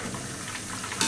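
Chicken pieces deep fry in hot oil in a restaurant kitchen, a continuous dense sizzle with a brief louder burst at the end, close up and without voices.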